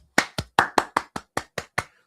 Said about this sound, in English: big applause to Mrs.